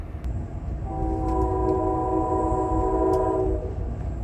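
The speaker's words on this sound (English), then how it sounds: "you pass through the train yard filled with MARC trains, Amtrak trains, and the very frequent DC Metro trains passing you by" A train horn sounds one sustained blast of about two and a half seconds over a steady rail rumble, heard from aboard the Amtrak Capitol Limited passing through a DC train yard with MARC, Amtrak and Metro trains.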